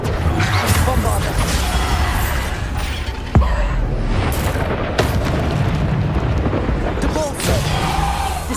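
Bombarda explosion spell cast in the video game Hogwarts Legacy, heard as deep booms with a couple of sharp blasts inside a dense, continuous wash of game sound effects.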